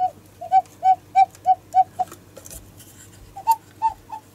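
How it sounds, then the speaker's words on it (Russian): A cuckoo clock's bellows-driven call, a run of six two-tone coos in even rhythm followed after a short pause by three more, clear and close in a quiet room. "Кукует."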